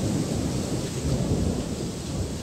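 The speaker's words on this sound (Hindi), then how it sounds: "आसमान में बिजली कड़क रही है।" Thunder in a darkening sky over a village market before rain, a continuous deep, loud rumble with a rough crackling texture, heard alone and unbroken.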